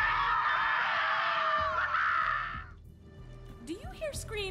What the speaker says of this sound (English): Do you hear screaming, or am I having another one of my episodes?